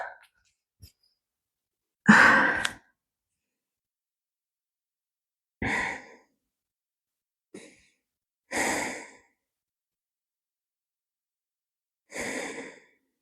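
Heavy breathing of someone recovering after a plank and floor-exercise strengthening workout: five deep, audible exhalations and sighs spaced a few seconds apart, close and fairly loud, with silence between them.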